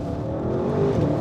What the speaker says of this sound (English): he is enjoying the sound of that V8, and the best thing is definitely when you do this